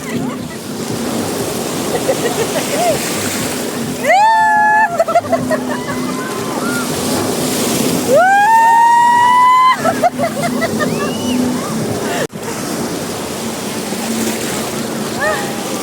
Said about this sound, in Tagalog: Ganun ang alon.